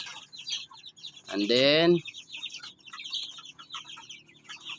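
Talisain chickens in a coop make soft, scattered clucks and calls, with one louder, drawn-out rooster-like call in the middle; someone speaks briefly nearby.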